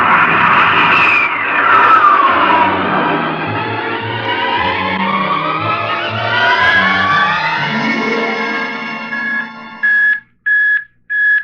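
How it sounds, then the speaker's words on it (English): Rocket blast-off effect from a 1955 science-fiction radio drama: a loud rising, whooshing engine roar with deep rumbling that climbs in pitch, then gives way to short, repeated electronic beeping tones. "Prepare to blast off on navigator's signal."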